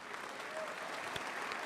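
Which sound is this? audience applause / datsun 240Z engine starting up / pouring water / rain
audience applause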